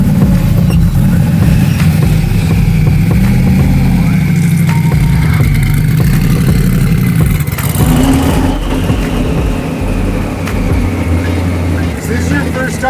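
A twin-turbo V8 in a wide-body BMW E30 runs loud and close throughout, a steady deep rumble with some revving, while people talk over it inside the car.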